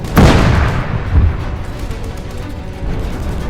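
A tank cannon fires once in a war video game, a loud close boom with a rolling rumble that fades into a low battlefield drone.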